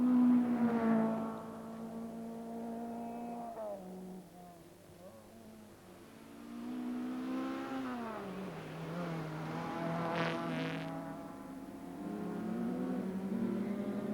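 A Citroën Visa rally car, among the smallest and most conventional in the field, drives a stage of the 1984 RAC Rally, its engine note rising and falling steadily under continuous commentary.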